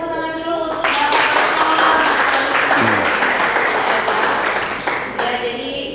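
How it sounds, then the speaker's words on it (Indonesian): A hall audience at a seminar at Universitas Medan Area breaks into loud, dense clapping for about four seconds. A voice is heard briefly before and after it. "Berikan tepuk tangan dulu"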